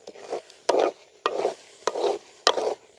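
Thick homemade amla (gooseberry) jam being stirred in a pan, a close scraping, sticky scrape repeated in four or five strong rhythmic strokes with softer bubbling between, no voices.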